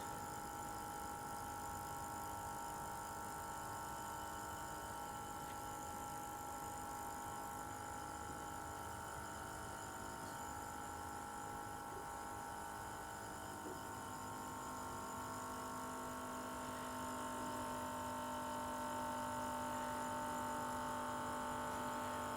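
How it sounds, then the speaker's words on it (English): A continuous mechanical hum and whir from a battery-powered milking machine vacuum pump, steady and droning throughout with faint tonal buzz, no voices. "you'll hear the sound of the pump begin to increase in intensity"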